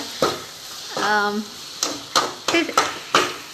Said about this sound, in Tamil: இப்போ தக்காளியை வசக்கிக்கிட்டு இருக்கிறோம்